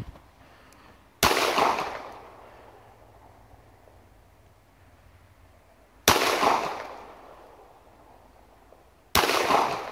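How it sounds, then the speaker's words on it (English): Three sharp, loud 9 mm Makarov pistol shots fired at cinder blocks outdoors, spaced several seconds apart, each with a short ringing decay and no talk between them. "Let's see what happens with some cinder blocks."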